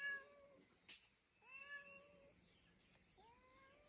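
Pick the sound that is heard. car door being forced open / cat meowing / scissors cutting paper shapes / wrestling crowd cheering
cat meowing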